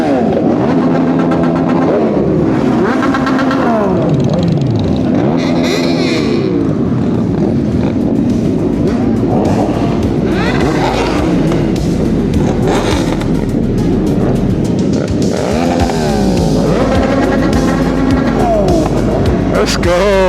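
An old Honda car is driven off, its engine loud and close, revving and rising through gears with sweeping pitch changes over gravel while people talk over it.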